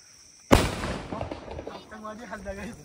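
A firecracker bursts with a sudden loud blast on Diwali night in a village, followed by crackling and rumbling echoes, with voices talking over the aftermath.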